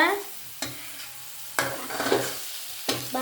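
Chicken curry being stirred in a frying pan, with four distinct scraping strokes of a spoon against the pan, each followed by a decaying sizzle, close and fairly loud.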